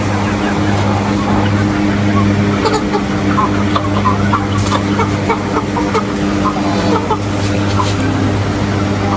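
Aseel roosters and hens cluck and call in a coop over a constant low engine-like hum, with scattered bird calls throughout and people talking at times.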